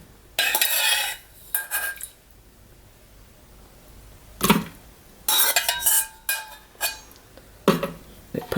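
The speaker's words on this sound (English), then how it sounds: "So I'm just gonna scoop the dates out and do it this way." Sticky dates scooped with a utensil into a food processor bowl, several loud close clanks and scrapes of metal on the bowl in separate bursts with quiet gaps between them.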